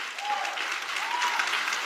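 An audience claps steadily for a preacher, a dense patter of many hands filling the room at moderate volume, with faint voices mixed in.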